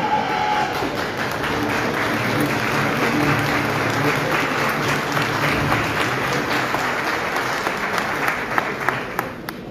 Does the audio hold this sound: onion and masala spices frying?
no